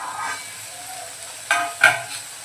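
A spoon stirs dry prawns with green onion in a pan over a soft, steady sizzle. Two short, distinct scraping strokes stand out near the end.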